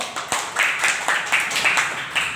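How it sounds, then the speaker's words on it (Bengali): Audience at a rural Bangladeshi adolescent club gathering claps together in a steady burst of applause that starts sharply and continues for a couple of seconds with rhythmic swells. "হ্যাঁ সবাই করতালি দাও"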